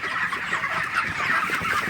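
Broiler chickens on a farm cluck and murmur together in a flock, a busy overlapping chorus of soft clucks close by with no talking.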